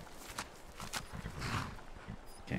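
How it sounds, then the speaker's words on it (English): A horse's hooves clop along at a walk in the video game Skyrim, with soft rhythmic footfalls under a low, faint game soundscape. "Let's hop on the horse and get to it."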